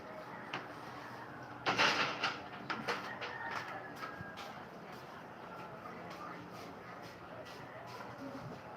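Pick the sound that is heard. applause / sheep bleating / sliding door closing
sliding door closing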